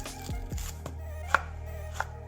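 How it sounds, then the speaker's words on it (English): A knife chops half an onion on a board, a few distinct, fairly close thuds spaced irregularly, with a faint steady hum beneath. "Now we're gonna chop it. We're gonna use half an onion."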